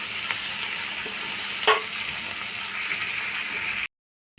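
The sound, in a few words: egg chili frying in a pan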